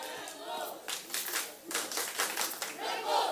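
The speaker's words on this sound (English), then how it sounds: "Please, a round of applause for yourselves." Students at a school event in Nigeria clap in a quick, uneven burst of applause, moderately close, with crowd voices mixed in and a spoken voice at the start and end.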